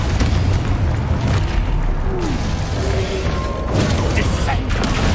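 A Confringo fire spell explodes in the video game Hogwarts Legacy, a dense, loud booming blast that rumbles continuously with clattering mechanisms and battle noise, a voice shouting over it.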